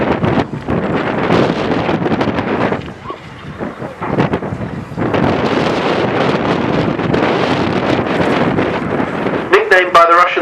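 A Polikarpov Po-2 'Kukuruznik' biplane engine gives a loud, buzzing rasp at an air display. It rises and fades in waves against strong wind buffeting the microphone, with a brief voice near the end.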